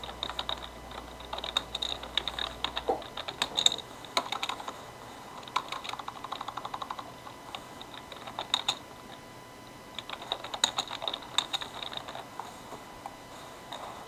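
Text is typed on a computer keyboard in bursts of quick, close key clicks separated by short pauses, light and crisp with no talk.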